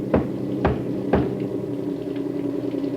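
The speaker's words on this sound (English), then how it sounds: "3 knocks on the back of the cab." Three sharp knocks on the back of a truck cab, evenly spaced about half a second apart over a steady engine hum, close and distinct.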